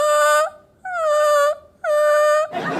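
A human voice imitates a crying dog with three drawn-out, high wailing whimpers, close and loud, each falling slightly in pitch, followed by a brief burst of rough noise.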